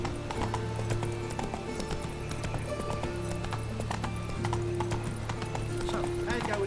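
Horse hooves clip-clop steadily in the Witcher 3 video game as a horse travels through a city, a rhythmic clatter over ambient game sounds and background hum.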